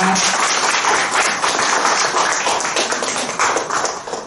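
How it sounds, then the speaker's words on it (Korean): A crowd applauds loudly and steadily at a Buddhist Sunday service, dense clapping filling the whole stretch with no talk over it. "다시 한번 큰 박수 부탁드립니다"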